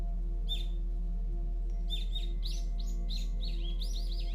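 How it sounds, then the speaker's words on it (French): Several birds chirp and trill in a forest, short bright calls repeating in quick clusters over a low steady hum, fairly near and clear, growing busier toward the end. "les oiseaux chantent."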